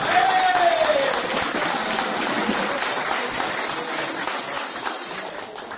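Sustained crowd applause at a Botafogo reunion event honouring former footballers, a broad wash of clapping with a brief faint whistle-like tone near the start, slowly tapering toward the end.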